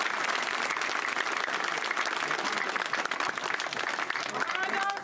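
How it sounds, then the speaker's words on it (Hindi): A political rally crowd at a 2024 Lok Sabha election public meeting in Bajrangarh, Guna claps in a dense, sustained burst, with faint voices rising near the end. "अब तो तालियां बढ़नी चाहिए धड़ाधड़।"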